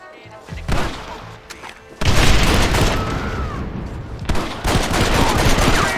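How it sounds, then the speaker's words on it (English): Dynamite blasts in the Red Dead Redemption video game: a sharp boom at the start, then two heavy, loud broadband explosions with rumbling debris and gunfire-like crackle continuing close by. "Dynamite! Get out of here!"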